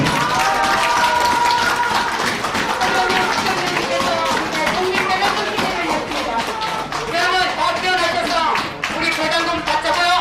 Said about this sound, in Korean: 여러분 다시 한번 힘찬 격려 박수를 보내주십시오